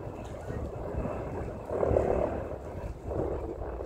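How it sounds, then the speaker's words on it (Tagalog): A helicopter flies overhead at Deep Water Bay, Hong Kong, its low engine and rotor drone rising and falling at a moderate distance under outdoor background noise. "May helicopter sa taas."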